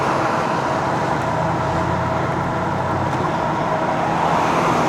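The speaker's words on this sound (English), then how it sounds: "There you can see that car going closely by me." A car passes close by a cyclist riding an e-bike in a bike lane, its steady road and engine roar loud against constant wind and traffic noise.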